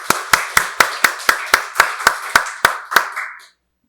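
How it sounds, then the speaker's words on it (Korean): A church congregation claps together in a steady, even rhythm, roughly a dozen crisp, loud claps in quick succession that then stop abruptly. "박수로 하나님께 영광 돌리겠습니다."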